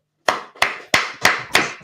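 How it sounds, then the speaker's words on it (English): Five loud, close hand claps land in an even, deliberate rhythm from a class audience, each sharp and slightly ringing, with no talking. "clap it up"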